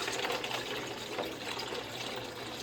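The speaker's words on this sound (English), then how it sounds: "And pour some water in there." Water poured into a container holding gun parts being cleaned on a workbench, a steady close splashing rush that runs for a couple of seconds without pause.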